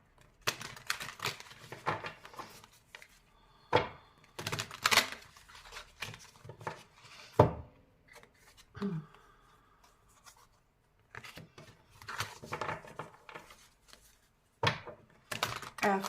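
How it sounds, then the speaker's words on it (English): Tarot cards riffle and slap together in repeated bursts of shuffling, with quiet pauses and soft rustling between them. "I'm going to shuffle a little bit more the shadow cards"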